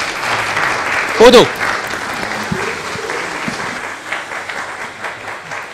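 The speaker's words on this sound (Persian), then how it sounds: "همکه میاد تشویقش کنی" An audience breaks into applause at a televised comedy show, a short burst of clapping that rises and then fades while people talk over it.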